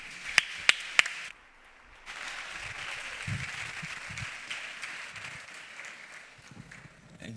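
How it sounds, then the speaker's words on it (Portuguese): A conference audience applauds a speaker with steady, fairly faint clapping that lasts several seconds, preceded by a few sharp clicks. "Uma salva de palmas para ele."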